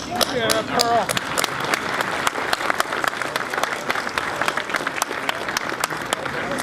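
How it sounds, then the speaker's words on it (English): Audience applause for standing commissioners and county officials at a city address in Franklin, Tennessee: thick, steady clapping from a large crowd, with a few voices and cheers near the start. "So if you guys would stand, let us give you an applause."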